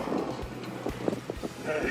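Gusty wind buffets the microphone in low rumbling bursts outdoors on the Dampier Peninsula, with muffled voices underneath.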